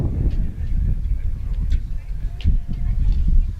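Gusty wind at an outdoor recurve archery match buffets the microphone with a continuous low rumble that rises and falls in bursts over a few seconds.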